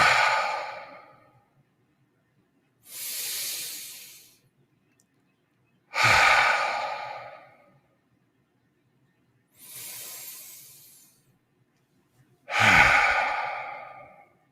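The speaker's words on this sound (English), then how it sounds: "into this present moment with 3 deeply satisfying breaths" Three slow, deep breaths, each a long inhale followed by a long audible exhale, close and clear, separated by silence in a quiet room.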